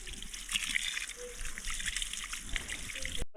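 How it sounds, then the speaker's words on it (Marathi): Close, steady trickle and splash of water from a motor-driven supply pouring onto plants, with a soft continuous hiss and a few faint tonal blips, ending abruptly. "मोटर चालते तो झाडांना पाणी देतं"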